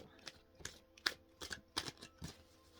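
Soft, close riffling and tapping of a deck of cards being shuffled, in quick irregular bursts.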